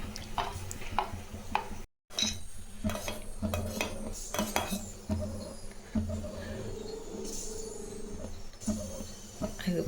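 A spoon scrapes and clinks against a metal pot in repeated stirring strokes through thick, boiling multigrain porridge, with soft bubbling and kitchen clatter around it.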